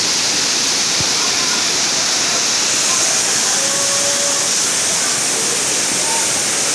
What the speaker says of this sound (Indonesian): ini adalah air terjun yang keduanya di bawah, dan sangat dalam sekali